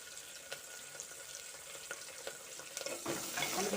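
Three sprigs of curry leaves sizzling in hot oil for a gongura and dried shrimp curry, a soft, steady crackle with light stirring that swells slightly near the end, no voices.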